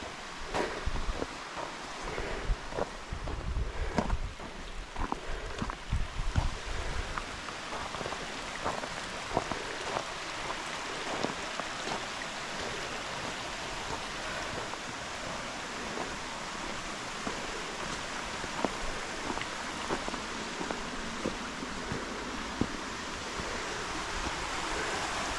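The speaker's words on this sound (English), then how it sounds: "Hear the waterfall?" Steady broadband rush of a waterfall at Spence Hot Springs in the Jemez Mountains, New Mexico, continuous and fairly loud throughout with a few louder splashy bursts early on.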